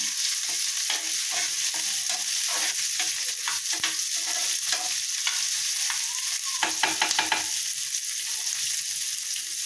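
Sprouted moth bean curry being sautéed in a pan, with a steady close sizzle and repeated scraping stir strokes running throughout.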